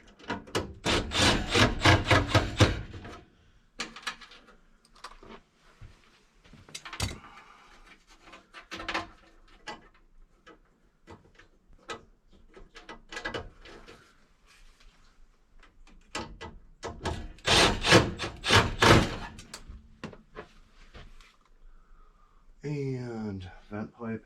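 Screws being fitted and driven into the inducer of a Carrier 58ZAV096 furnace during heat exchanger replacement, with scattered knocks, scrapes and rattles of metal parts and bursts of loud handling noise.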